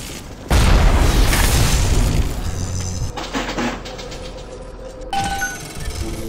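A loud booming blast erupts suddenly in the game BioShock, followed by crackling, rumbling debris and scattered sharp pops, with no talking.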